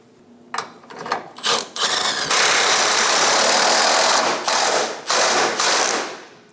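Ratchet wrench snugging down a fuel tank strap bolt on a 2003-2025 Chevrolet Express 2500: several short bursts of clicking followed by long, loud continuous ratcheting runs, close up, broken by brief pauses.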